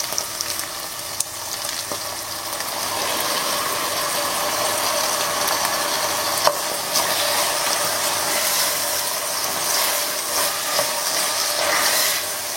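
Tomatoes hit a pan of light golden fried onions, giving a steady close sizzle with occasional scraping and clicking from stirring throughout.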